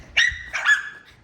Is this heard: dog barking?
yes